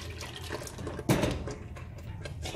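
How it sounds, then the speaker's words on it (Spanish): A blender jar being rinsed out with a little broth or water in a home kitchen, a short liquid splash and slosh, close and fairly soft. "Enjuago el vaso de la licuadora con un poco de caldo o de agua"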